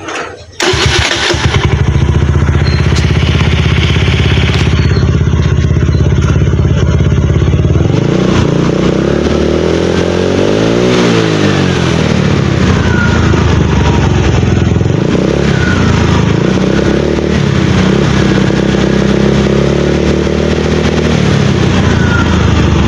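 A Keyway 125 motorcycle with a misfiring engine that won't pull starts up and runs loud and close, idling with a rough, clattering tone and occasional rising revs.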